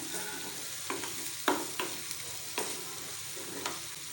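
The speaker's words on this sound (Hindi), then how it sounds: "इतना ही पकाना है प्याज को हमने।" Onions fry in a pan for a black pepper chicken gravy, with a steady bright sizzle throughout and a few louder clinks and scrapes from stirring.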